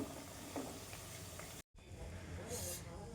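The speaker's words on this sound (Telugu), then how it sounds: "ఇవి ఇట్లా ఆయిల్లో ఉడికించుకొని ఇట్లా తీసుకోవాలి" Chicken pieces fry in hot oil, a close, steady hiss and crackle broken by a brief dropout, with a soft voice faintly underneath.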